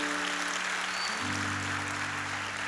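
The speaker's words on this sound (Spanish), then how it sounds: "Dale un aplauso a Dios" A church congregation applauds God, a dense, steady wash of clapping that carries on throughout while sustained musical tones sound underneath and shift partway through.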